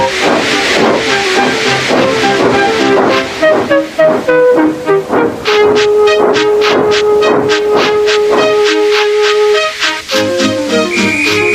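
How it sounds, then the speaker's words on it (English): The steam locomotive Gordon hisses and blows off steam loudly while backing onto a train, with a sustained whistle-like tone and rhythmic chuffing bursts layered over music, close and prominent throughout. "Gordon, with much noise and blowing of steam, got ready to back onto the train."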